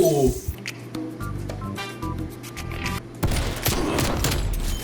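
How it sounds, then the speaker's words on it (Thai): Shotgun blasts and other gunfire crackle through a Call of Duty: Black Ops Cold War match, with loud bursts near the start and a dense, sustained volley in the last second and a half over a busy game background. "ลูกซองอีกแล้ว"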